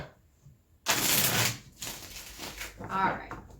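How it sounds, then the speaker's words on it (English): Tarot cards riffle in a loud burst of shuffling for about a second, then a few softer shuffles and card flicks follow, close and dry. "Feel one more shuffle."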